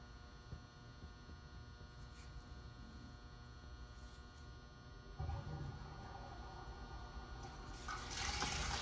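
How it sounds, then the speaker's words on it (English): Toilet flushing in a second bathroom during a plumbing leak check, heard faintly through a steady mains hum, with rushing water swelling midway and rising again near the end. "Flush bathroom 2."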